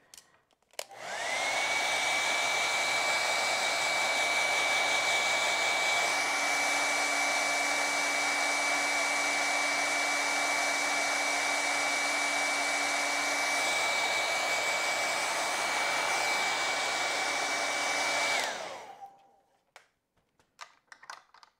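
A hair dryer blows on a wet acrylic painting of a seashell beach, switching on with a loud steady whooshing roar that holds for about seventeen seconds before cutting off.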